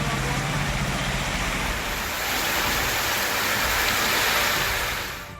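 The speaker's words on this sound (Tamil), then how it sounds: "நாகர்கோவில் மற்றும் அதன் சுற்றுவட்டார பகுதிகளில் திடீரென மழை பெய்தது" Steady, dense rain hissing down over streets in Nagercoil, Tamil Nadu, during a sudden shower, with a constant loud broadband wash and a faint low rumble of passing traffic underneath.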